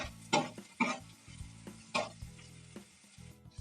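Tamarind frying in a pan while being stirred, heard as close, intermittent scraping and clattering strokes over a low sizzle, with no talking.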